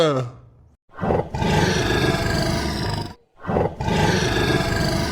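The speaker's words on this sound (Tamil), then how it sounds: "சிங்கம் வந்துட்டுடே" Two long, loud roars from a cartoon lion, each lasting about two seconds, with a short silent pause between them.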